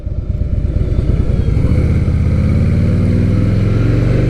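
Harley-Davidson Softail motorcycle on the move, a loud, close, steady engine drone with a low throbbing rumble that holds even throughout, with no voices.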